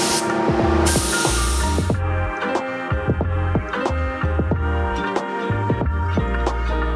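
A spray gun applies filler primer to a car bumper on a Civic Si restoration, with a loud, close hiss of spraying for the first two seconds, followed by a quieter hum with scattered clicks and tonal sounds.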